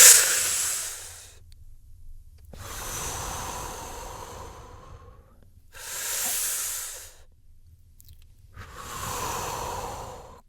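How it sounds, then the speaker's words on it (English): A person takes three long, deep breaths, each a slow hissing inhale followed by a softer airy exhale, close and clear with silent gaps between them. "Now breathe deeply."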